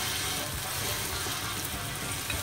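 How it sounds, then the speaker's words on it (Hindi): Dahi bhalle lentil dumplings fry in hot oil in a kadhai, giving a loud, steady, dense sizzle with fine crackling throughout and no talking. "तेल काफ़ी गर्म हो चुका है। अब हम भल्ले बनाएंगे।"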